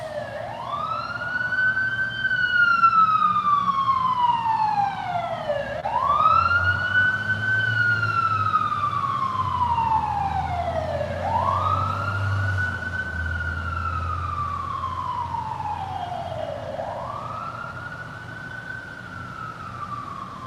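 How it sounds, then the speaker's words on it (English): An emergency vehicle siren wails past, sweeping up and down in long repeated cycles, loud and steady throughout with a low engine rumble underneath and no talking. "I was waiting for that siren to pass."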